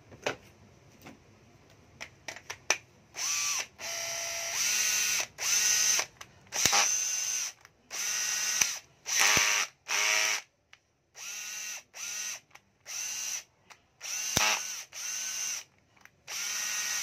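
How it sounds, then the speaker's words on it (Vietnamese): Hitachi 12LM2 cordless drill with a 13 mm chuck runs in repeated short bursts, whirring up and stopping over and over with brief clicks between, close and alone. "Cây số 3 khoan Hitachi, mã là 12LM2, đầu kẹp 13 ly"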